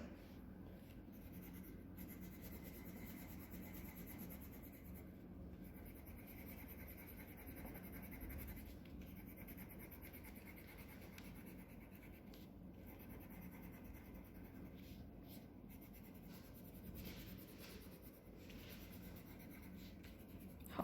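Coloured pencil scratches steadily across paper in a classroom book exercise for a long stretch, a soft continuous rubbing with small irregular strokes, close and quiet, no voices.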